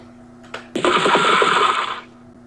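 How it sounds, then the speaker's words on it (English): A handful of dice clatter and tumble across a hard surface in a brief rattling burst of roughly one and a quarter seconds, close and fairly loud, following a faint click. "And I will roll the dice."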